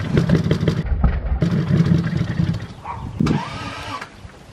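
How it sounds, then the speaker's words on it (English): A Lexus IS300 that has sat unused for weeks cranks and fires up, a rough churning start followed by a brief rising engine note, loud and close. "now we're finally gonna start up the car for the first time in weeks and see how it goes"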